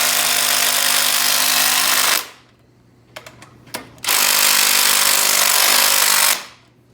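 A Makita power tool runs loud and steady for about two seconds, stops, gives a few short clicks and bursts, then starts again and runs for two more seconds before winding down, heard up close during an automotive cam swap.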